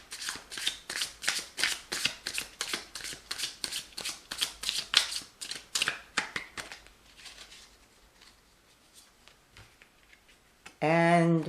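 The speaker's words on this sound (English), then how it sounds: "I will shuffle one more time after this" Tarot cards are shuffled in a steady run of brisk riffling bursts that thin out and fade toward the end, followed by a short louder burst of a different sound.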